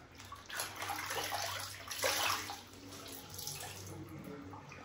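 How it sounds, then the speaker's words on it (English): Water splashes and runs steadily close by as a face is rinsed during a skincare routine, with soft sloshing surges over a constant flowing wash. "And then I'm gonna come and wash it off."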